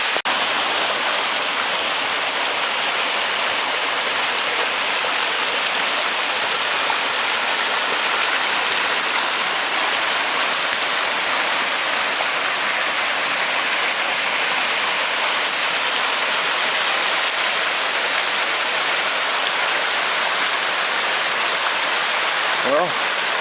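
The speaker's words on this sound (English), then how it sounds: "The water in the creek is flowing really nice." Creek water flowing after rain along the Appalachian Trail between Hot Springs, North Carolina and Erwin, Tennessee, a steady, dense rushing wash of water that holds evenly loud throughout with no voices.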